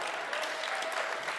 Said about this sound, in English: huge applause, please